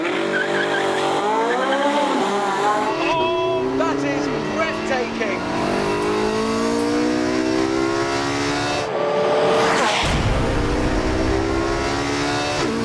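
A Porsche 918 Spyder hybrid engine revs hard to 9,000 RPM and climbs through gears close by on a track, its pitch rising and falling, while a man exclaims excitedly over it.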